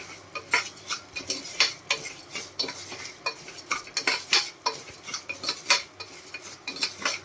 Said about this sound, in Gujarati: હવે આપણે એમાં ફાડા લાપસી છે એ એડ કરી દેશું ઘઉં અને આને એકદમ સરસ શેકી લેવાના છે આપણે આમાં.